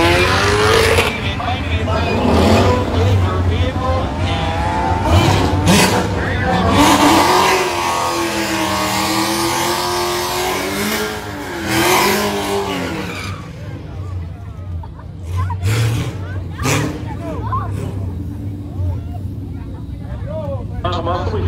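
A Ford Mustang muscle car accelerates hard at a drag race, its loud revving engine and tire squeal rising and falling over about twenty seconds while spectators talk over it.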